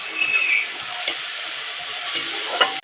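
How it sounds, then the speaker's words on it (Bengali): Prawns sizzle in a pan with onion and ginger-garlic paste for a chicory greens curry, a steady broadband hiss with brief stirring scrapes and clinks, close and alone. "পেঁয়াজের সঙ্গে ভালো করে ভাজা ভাজা হয়ে যাবে।"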